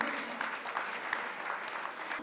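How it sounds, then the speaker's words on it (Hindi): An audience at a religious discourse event in India applauds steadily, a dense even patter of many hands clapping at moderate volume with no voices over it. "परमार्थ ग्रुप के लिए एक बार जोरदार तालियां बजाइए।"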